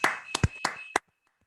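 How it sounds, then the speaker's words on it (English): A youth football group claps together after a workout drill: a few quick, loud bursts of hand claps close together, then silence. "Clap it up."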